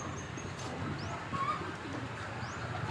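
Pigeons cooing softly over steady background noise in a loft setting, with faint short calls scattered through a few seconds and no clear talk.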